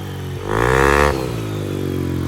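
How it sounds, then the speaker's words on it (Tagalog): Yamaha Aerox V2 scooter engine running after a bolt-on upgrade, idling close by, then a single brief rev that swells and drops back to a steady idle. "Ayan, umaandar na yung motor."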